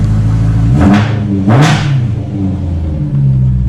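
A BMW E92 M3 with a new exhaust revs sharply twice over a steady idle rumble, each blip rising and falling quickly, loud and close.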